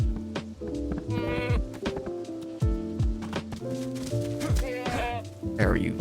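In the DayZ survival video game, a goat bleats a few times amid busy game sounds, tonal music and occasional thumps, with a voice talking over it.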